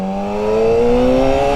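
A Yamaha R6 motorcycle engine revving up while riding, a loud close whine that climbs steadily in pitch over a short pull, with no talk.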